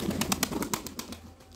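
Pigeons in a pigeon farm coo in soft, repeated bursts over a steady background murmur, moderately close and without speech.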